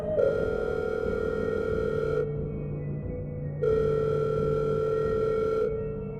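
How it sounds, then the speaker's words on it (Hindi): A telephone rings in two long electronic bursts of about two seconds each, separated by a short pause, steady and fairly loud with no voices. "तभी उसकी माँ का फोन आया।"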